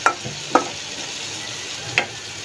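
Chicken frying with onion and green chili in a pan sizzles softly and steadily, with a few sharp scrapes of a stirring utensil against the pan.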